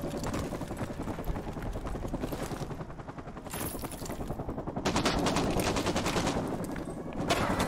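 In Call of Duty MW2 Campaign Remastered, a helicopter drones steadily under bursts of rapid machine-gun fire, loud and continuous, with heavier volleys toward the end.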